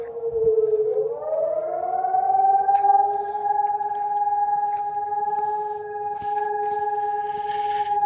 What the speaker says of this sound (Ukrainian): Вийшли погуляти під сирену.